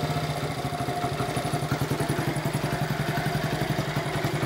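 A Honda C50 motorcycle engine idles on tick over after a new spark plug is fitted, giving a steady, rapid putter with a slight clatter, close and moderately loud, with no talking.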